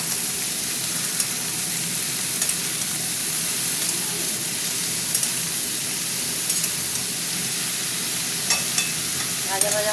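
Vegetables sizzle in a pan at a picnic cookout while being stirred, a continuous hissing fry broken by light scraping and clinking strokes every few seconds, close by with no speech.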